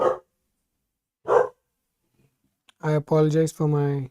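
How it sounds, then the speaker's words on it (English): A dog barks twice in the background, two short separate bursts spaced about a second apart, followed by someone talking close to the microphone. "dog in the background."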